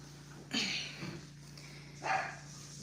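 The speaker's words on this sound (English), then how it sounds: "You have a dog. Why are you barking?" A dog barks three times nearby, sharp yappy barks spaced apart, with quiet background between them.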